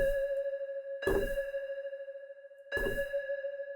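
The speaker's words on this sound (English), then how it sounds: "like a submarine beep" A synthesized sonar-like beep pings three times at a slow, regular pace, each tone ringing on with a reverberant tail.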